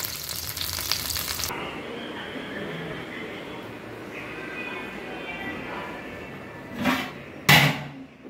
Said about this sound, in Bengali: এদিক দিয়ে দেখুন ফ্রাই প্যানে বড়াগুলো আমি ভেজেও নিচ্ছি